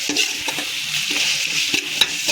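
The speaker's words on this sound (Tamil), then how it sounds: "கொத்தமல்லியும் ஒரு கை, மல்லி ஒரு கை போட்டுட்டு ஒரு மிக்ஸ் கொடுத்துடணும்" Coriander and mint leaves stirred into frying mutton for a rice dish, a steady close sizzle with a few scraping stirs of the spoon against the pan, no voices.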